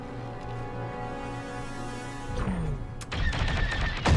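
Starship gunfire from a Star Wars Squadrons video game trailer: after a humming engine drone, a burst of rapid blaster shots and explosive impacts rises loud and close in the final seconds.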